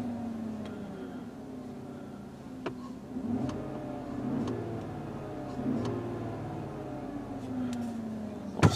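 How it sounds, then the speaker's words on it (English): The engine of a 2014-or-later GMC/Chevrolet truck hums quietly at idle, then rises in a couple of moderate throttle revs, heard close and fairly faint. "Give it some throttle there."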